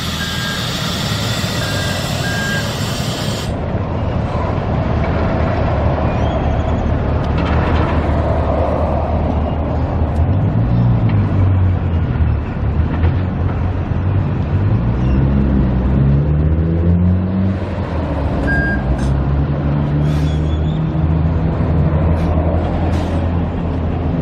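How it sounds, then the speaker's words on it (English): A city bus approaches along a Las Vegas street beside the Tropicana demolition site, its engine rumble and tire roar swelling steadily over continuous traffic noise, with a brief high hiss at the start and no talk. "Here comes the bus."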